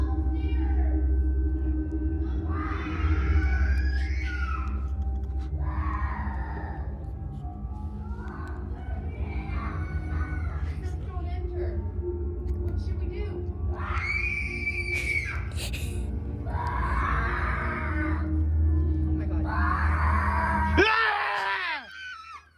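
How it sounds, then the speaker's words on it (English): A person screaming at the top of their lungs during a Halloween experience, long loud sustained shrieks and wails repeating one after another over a rumbling, noisy background, ending abruptly. "was me screaming at the top of my lungs"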